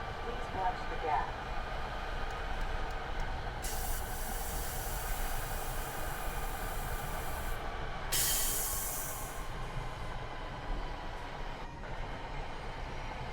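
An NJT Arrow III electric train in Train Sim World 6 stopping at a station, steady rolling rumble with bursts of air brake hiss, and an automated voice announcement over it.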